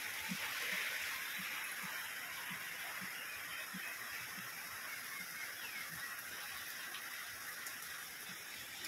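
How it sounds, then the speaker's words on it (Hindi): Heavy monsoon-style rain pours steadily onto metal roof sheets, a constant loud hiss with scattered patter, continuous for the whole stretch with no talk. "हमारे यहाँ पे बारिश कितनी ज़ोरदार लग रही है।"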